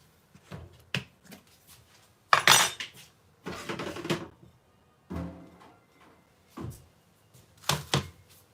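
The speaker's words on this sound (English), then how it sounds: "I will look for the spoon" Metal cutlery clattering in a kitchen while searching for a spoon during samosa cooking, several separate jangling bursts of utensils knocking together, close by, with quiet gaps between them.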